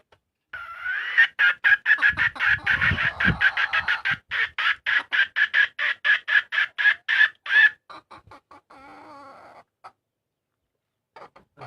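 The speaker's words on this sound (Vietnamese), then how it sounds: "Còn mấy con gà non non ở đây nhưng mà con này mới bắt được hôm qua nó nhát quá." Young chickens cluck in a fast, rhythmic run of close calls that thins out into a few sparser clucks before falling quiet.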